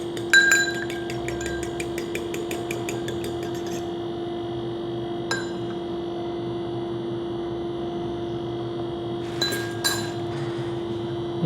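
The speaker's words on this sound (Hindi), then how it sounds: "अंडे अच्छी तरह फेंट के" Two eggs are beaten in a bowl in a home kitchen, and a utensil makes a quick run of rapid clinking taps against the bowl. A few isolated knocks follow later over a steady background hum, with no talking.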